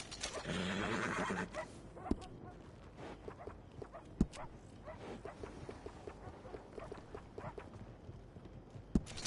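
A horse in the Red Dead Redemption 2 video game gives a loud whinny at the start, followed by scattered hoof clops and soft game ambience with faint background voices.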